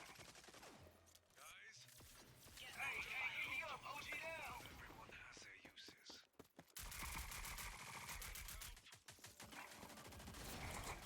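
Gunshots fired at a trip mine in the video game Rogue Company, rapid bursts of shooting that start and stop under a voice talking throughout, with a dense stretch of fire near the end.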